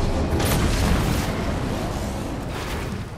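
Torpedo explosion in a video game, a loud, deep booming blast that rolls on as a dense rumble across the whole clip, alone without talk.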